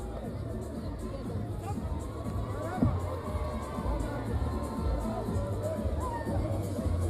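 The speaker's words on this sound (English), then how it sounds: "crowd is in the ring, guys celebrating." After a boxing bout ends, a celebrating crowd fills the ring, giving a continuous close babble of excited voices and shouting with one brief louder burst partway through.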